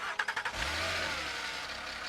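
A 2009 Porsche Cayman (987.2), fresh from an alternator replacement, cranks with a few quick rhythmic pulses, then fires and settles into a steady close-up engine roar.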